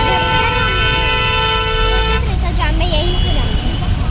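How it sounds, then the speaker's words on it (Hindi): Heavy road traffic near a school in Dhanbad, Jharkhand, with a loud sustained car horn blaring for about two seconds, then more honks and engine rumble close by in the busy street. "बहुत ट्रैफिक है"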